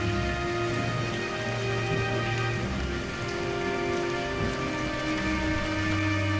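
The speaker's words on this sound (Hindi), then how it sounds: "ये तो भयंकर बारिश है" Heavy rain pours steadily, a dense continuous hiss of drops drumming on surfaces, loud and close with no pauses.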